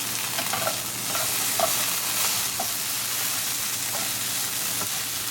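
Taro root (arbi) with cumin sizzles steadily in a pan while a spoon stirs it, scraping with soft periodic strokes over an even frying hiss; close and moderately loud, with no talking.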